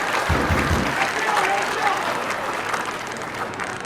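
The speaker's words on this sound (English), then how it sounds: "So give him a applause." Audience applause at a US Army recruiting conference for a National Guard recruiter of the year, a sustained round of clapping from a crowd that fades slightly, with voices heard beneath it.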